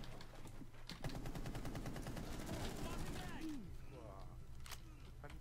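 Rapid gunfire in Rainbow Six Siege, including a sniper rifle, crackles in dense repeated bursts through most of the clip, with a voice shouting excitedly over the shots.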